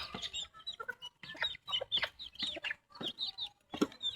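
Hens clucking in a backyard flock with chicks, a series of short, quick clucks and chirpy calls at close range, fairly quiet, with no speech.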